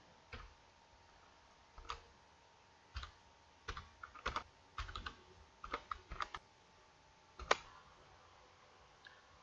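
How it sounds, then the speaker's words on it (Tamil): Irregular bursts of clicks from a computer keyboard as marks are typed into an Excel spreadsheet, close and fairly quiet, with short pauses between runs of keystrokes and no talking. "ஸ்டூடெண்ட் நேம் என்டர் பண்ண முடிச்ச உடனே மார்க்ஸ் டைப் பண்ண ஆரம்பிங்க."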